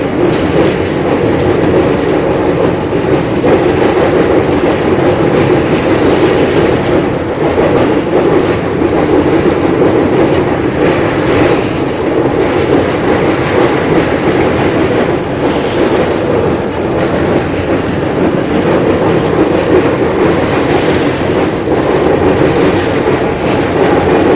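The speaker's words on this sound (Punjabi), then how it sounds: "ਰਾਵੀ ਦਰਿਆ ਉੱਪਰ ਦੀ ਟ੍ਰੇਨ ਜਿਹੜੀ ਉਹ ਜਾਂਦੀ ਹੈ" A train crosses the Ravi river on the Punjab to Kashmir route, heard from on board as a loud, continuous rolling rumble with rhythmic clickety-clack of wheels over rail joints throughout.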